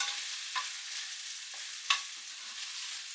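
Onions fry in leftover oil with a soft, steady sizzle, broken by a few light scrapes of stirring, one a bit sharper than the rest.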